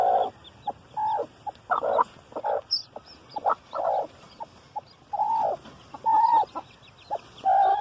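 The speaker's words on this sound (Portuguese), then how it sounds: "olha o tanto de pintinho" A hen clucks in short repeated bursts close by, while her newly hatched chicks from blue and green eggs peep faintly and high above her.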